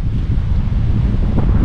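Strong gusts of a norte wind, around 50 km/h, blow along the seafront and roar constantly against the microphone as a heavy, unbroken low rumble.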